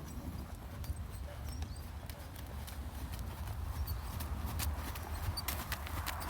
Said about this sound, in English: pick up trot when you're ready